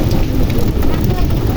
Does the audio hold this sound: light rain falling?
yes